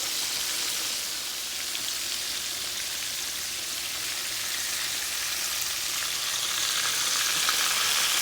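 Chicken sizzles and crackles steadily in hot oil for Southern fried chicken, a dense, even frying hiss that stays constant throughout, close up.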